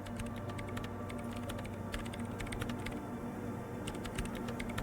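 Continuous keyboard typing in the video game Disco Elysium, fast clustered keystrokes in short bursts over a low steady hum, with no speech.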